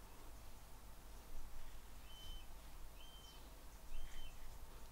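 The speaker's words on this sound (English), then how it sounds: "there's a buzzard flying around outside making lots of noise" A buzzard calls faintly in the distance three times, short high cries spaced a second or so apart over quiet background hiss.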